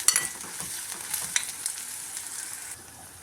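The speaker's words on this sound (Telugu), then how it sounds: "ఇది దోరగా వేగించుకుందామండి." Onions frying with cumin, mustard seeds and curry leaves in hot oil, a soft continuous hiss and crackle with a few stirring scrapes, moderately quiet and without talk.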